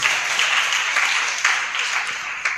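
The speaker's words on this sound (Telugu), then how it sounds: "నమ్మితే చప్పట్లు కొట్టాలి." A congregation at a fasting prayer meeting claps steadily and loudly for a couple of seconds, a dense, continuous wash of applause filling the room.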